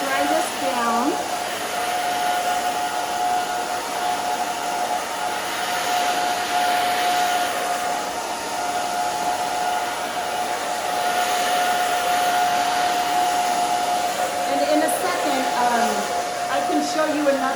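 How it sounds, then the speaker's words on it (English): A hair dryer blows steadily and loudly while drying the back of a stacked bob haircut, its whine holding constant with faint background movement throughout. "I'm just going to dry this down."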